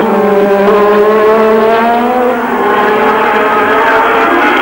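Formula 1 race cars at the 1986 Spanish Grand Prix, a loud sustained engine howl with a rising and falling pitch as a car passes close by, continuous throughout.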